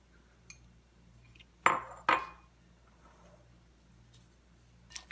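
A bacon and garlic mixture goes into spaghetti in a pan with two close, sharp metallic clanks of utensils against the cookware, then a few faint clinks in an otherwise quiet kitchen.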